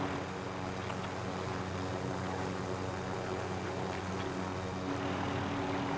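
A helicopter in a video game drones with a steady, moderately faint engine hum and rotor rumble that holds even throughout, without talk.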